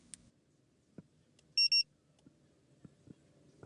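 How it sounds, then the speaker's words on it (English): A car alarm gives two quick, loud electronic chirps in a row amid near-silence, with scattered soft knocks and thumps around them. "the alarm is working"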